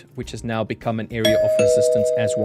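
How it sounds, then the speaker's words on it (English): A doorbell rings with a two-tone ding-dong. The clear, sustained chime sounds midway through and holds under someone talking steadily over it. "That is a doorbell."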